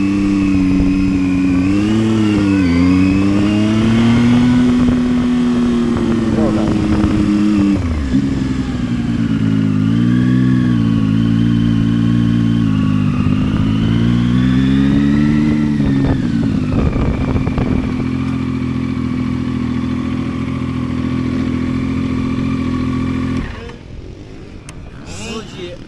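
Zontes 703F motorcycle ridden in second gear, its engine revving up and down in rising and falling pitch sweeps close by, with a rider talking over it throughout before the engine drops away near the end.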